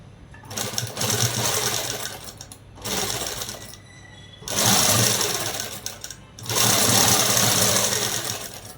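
A sewing machine stitches a soft cloth dress for a baby, running in two long bursts with short pauses between them. The whirring is loud and close with no talk over it.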